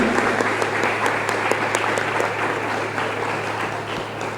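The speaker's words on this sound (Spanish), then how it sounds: "la recibimos con un fuerte aplauso" A university cultural-day audience gives a loud, sustained round of applause to welcome a speaker to a panel, with dense, even clapping running for about four seconds and no voices over it.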